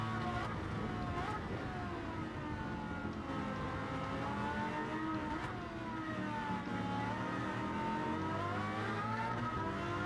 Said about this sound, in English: You can hear the sound of that AMG GT over the top of our GT engine